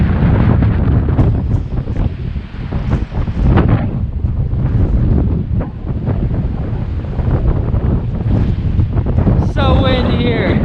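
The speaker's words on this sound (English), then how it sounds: "So windy here." Strong wind during a Texas winter storm roars loud and steady into the microphone, buffeting continuously with gusty surges throughout.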